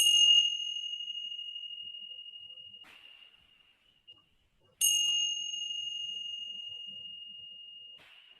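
Meditation bell rung twice, several seconds apart, each strike giving a bright metallic onset and a long, steady ringing tone that slowly decays in a quiet room.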